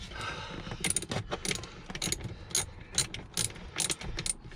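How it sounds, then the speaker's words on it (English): Ratchet tightening a 10mm bolt on a 2013 BMW F30 318, a steady run of rapid, close clicking strokes. "just get that tightened up, just this last bolt now, 10mm"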